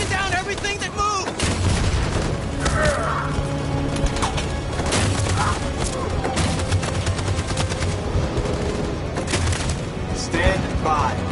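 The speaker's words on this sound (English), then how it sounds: "That machine gun is taking down everything that moves!" Machine gun fire in the video game Detroit: Become Human: sustained rapid bursts and heavy booms under a dense battle din, with shouting voices over it.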